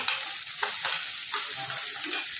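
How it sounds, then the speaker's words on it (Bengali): Ginger and green chili paste frying in a pan with turmeric, chili powder and chopped tomato, a steady loud close sizzle with occasional stirring scrapes and no voices. "এর মধ্যে দেবো অতি সামান্য আদা কাঁচা লঙ্কা বাটা। অ্যাড করে দেবো অল্প একটু হলুদ গুঁড়ো, অ্যাড করে দেবো লঙ্কা গুঁড়ো, টমেটো কুচি।"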